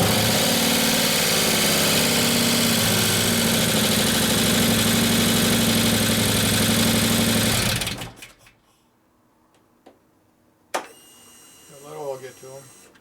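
A Harley-Davidson twin cam engine in an FLH Road Glide idles right after a camshaft install, with its lifters still running dry. The loud, steady idle lasts about eight seconds, then cuts off, leaving faint shop noises and a brief voice.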